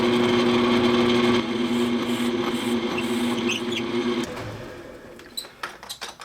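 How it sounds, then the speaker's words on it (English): A power drill whines steadily as it bores a 1/4 inch hole through plywood, then the motor cuts off and a few scraping, clattering handling noises follow. "now drill your 1/4 inch hole"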